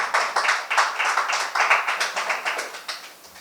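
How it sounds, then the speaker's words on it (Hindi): Applause for a correct answer at an inter-office quiz, a steady run of crisp hand claps from a modest group, fairly close and continuous, with no talk over it. "एक बार जोरदार तालियां सही जवाब के लिए।"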